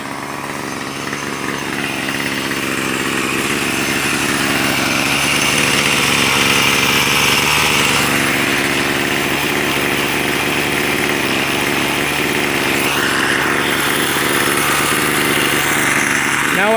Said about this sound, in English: You should notice the head on the weed eater will start spinning on its own after it's on number 2.